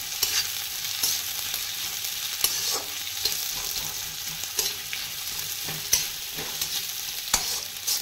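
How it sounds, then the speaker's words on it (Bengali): Food stirred and fried in an iron wok, giving a steady close sizzle broken by repeated scraping strokes of a spatula against the metal, with no voices. "ভালো করে নেড়ে চেড়ে নিয়ে"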